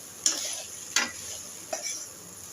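Boiled cabbage and carrot are stirred with cooked rice in a pan, three scraping spoon strokes over a soft sizzle, close by and without talk.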